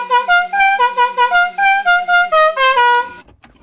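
Loud musical air horns mounted inside a limousine's grille blare a rapid run of tones in a tune-like sequence, close up, ending abruptly in quiet.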